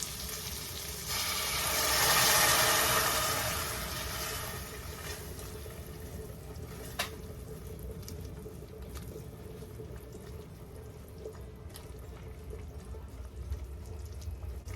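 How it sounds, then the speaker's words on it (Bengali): Hot water poured into a pan of upma with curry leaves and vegetables gives a brief swell of hissing sizzle, then settles into a quieter bubbling simmer with faint clinks. "এখন এখানে দিচ্ছি 1/2 কাপ জল"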